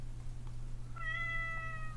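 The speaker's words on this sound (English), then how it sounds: "you better go get the cat before it jumps off the fridge" A cat gives a single drawn-out meow in a kitchen, close by, heard over a steady low electrical hum.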